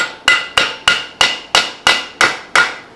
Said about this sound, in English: then the hub goes on. I'm going to give it a couple smacks.